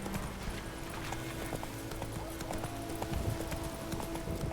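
In The Witcher 3, the horse Roach clip-clops at a walking pace, hoofbeats close and regular over a faint tonal game music bed, with a brief whinny-like sound in the mix.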